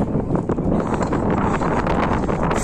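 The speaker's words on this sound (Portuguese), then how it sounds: "Vento enorme." Strong wind buffeting the microphone outdoors on a walking path, a steady loud rumbling roar with gusty surges throughout.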